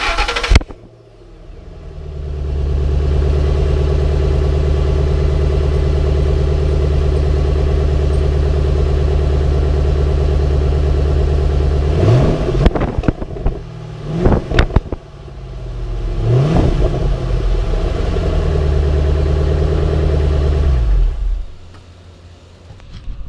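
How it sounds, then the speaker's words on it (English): Ford Mustang GT V8 on its factory exhaust starting up and settling into a steady, loud idle, then three sharp blips of the throttle near the end before it shuts off, heard close and with no talking. "you can hear the factory exhaust compared to how it was earlier"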